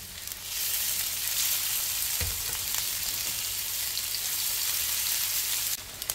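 Garlic and onion sizzle steadily in hot cooking oil for a Filipino pork dish, a continuous close frying hiss with a brief stir-like clatter near the middle and no talking.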